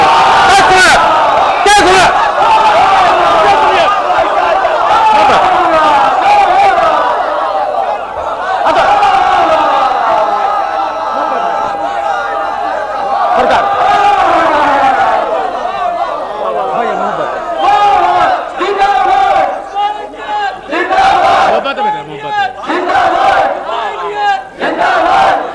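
A large crowd shouts and chants in loud, sustained waves at a Jashn-e-Maulood religious gathering in Pakri Khas, Tanda. Overlapping voices swell and surge throughout, with sharper bursts of cheering near the end.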